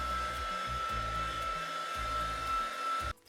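Close, continuous whir of a little heat gun blowing over wet paint on a canvas image transfer, the tone dipping and swelling as it is swept around, then cutting off abruptly at the end.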